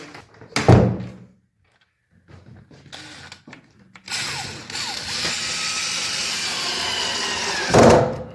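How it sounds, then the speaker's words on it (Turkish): A power drill driving the second screw of a door stopper into place, a steady whirring run of about four seconds ending in a louder burst as the screw seats, preceded by knocks and handling noises. "Hemen ikinci vidasını atalım."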